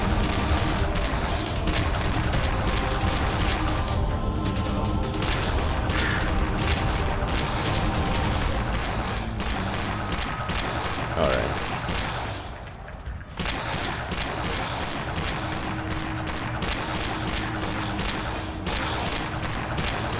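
Rapid gunfire from zombie shooting in the 2D survival game Dead Frontier 2D, loud, dense bursts of shots running almost continuously, with a brief lull near the middle before the firing resumes.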